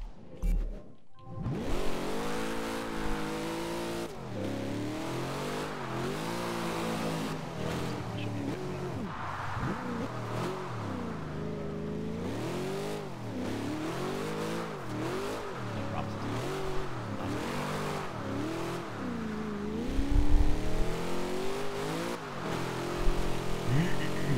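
A 1970 Camaro Z28 in Forza Horizon 2, driven in manual while drifting, revs hard with its engine note repeatedly climbing and dropping through gear changes, loud and continuous, with a brief louder burst near the end.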